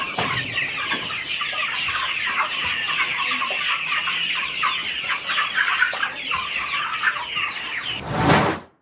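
Dense, continuous clucking from many chickens on a small poultry farm fills the whole stretch at close range, with a louder burst of squawking near the end.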